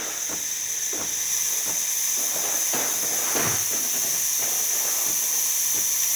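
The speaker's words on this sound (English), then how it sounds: "Now it's going to push steam." A DeLonghi Magnifica espresso machine's steam wand pushes out a steady, loud hiss of steam at close range, with faint irregular sputtering pops underneath.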